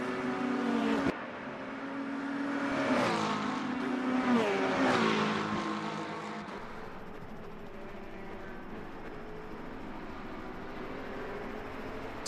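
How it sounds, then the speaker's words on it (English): Two Corvette race cars roar side by side through Imola in a multiclass race, engines rising and falling through gear changes, loud and close at first before settling into a steadier drone. "The 2 Corvettes going after each other right now."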